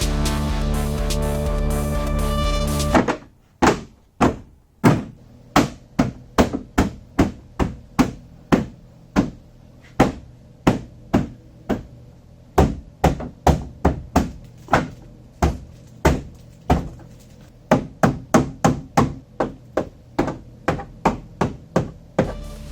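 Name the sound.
hitting on a Volvo taillight while fitting the rear bumper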